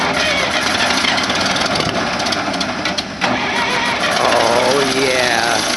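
A John Deere engine cold starting after sitting through winter, cranking and catching into a loud, rough running rumble close by, with a brief dip midway before settling into a steady idle.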